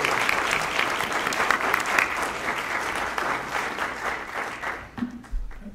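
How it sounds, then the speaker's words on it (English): Sustained applause from a conference audience at an HIV discrimination law panel, steady dense clapping lasting several seconds before thinning out near the end. "Please join me in giving them a round of applause."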